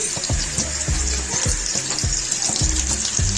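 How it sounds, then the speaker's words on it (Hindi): Chopped onions frying in hot oil for matar pulao, a strong, continuous close sizzle with a series of low thuds and scrapes from stirring at a roughly regular pace. "फिर इस टाइम पे ऑयल हमारे अच्छे से गर्म हो चुका है, अब इसमें मैं प्याज को कट करके शामिल करूंगी।"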